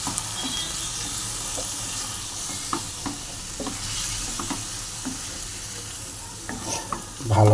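A vegetarian vegetable curry sizzles in a hot pan while it is stirred, a steady frying hiss broken by soft scraping strokes of the spoon, close and continuous.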